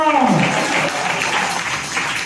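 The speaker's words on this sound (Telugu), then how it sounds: "Yes, clap for Jesus." A church congregation claps for Jesus during a worship service, a dense, steady patter of many hands that begins under a speaking voice and continues evenly.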